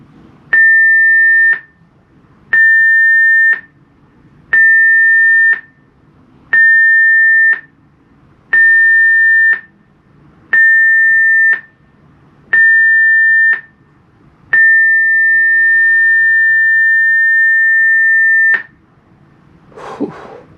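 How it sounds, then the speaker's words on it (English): General emergency alarm test aboard the P&O Britannia cruise ship: seven loud, evenly spaced electronic tone blasts, then one long sustained blast, ringing through a quiet interior before a brief burst of noise at the end. "The signal you have just heard was the general emergency alarm and was sounded for guest familiarization purposes only."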